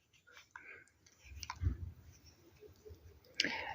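A single mouse click on a continue button during online account sign-up, a soft, close tick standing alone among faint breaths and quiet room noise.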